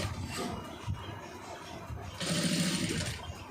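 A sewing machine stitches a star-shaped neck design on a garment, its rapid mechanical whir building into a louder, steady run partway through, close up, with a voice speaking faintly in the background.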